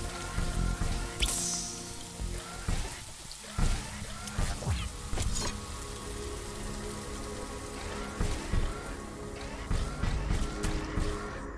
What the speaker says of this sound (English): The rain is over.